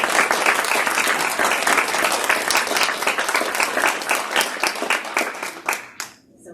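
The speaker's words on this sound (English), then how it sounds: "Can we get a round of applause for this?" Steady audience applause at a Black heritage community event, dense continuous clapping from a crowd that holds for about six seconds before thinning out and stopping near the end.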